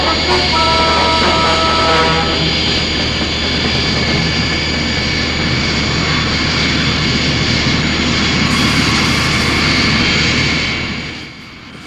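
Engine roar of the Thunderbird 2 transport aircraft, a loud, sustained jet-like drone with steady whining tones that holds for several seconds, then fades out at the end.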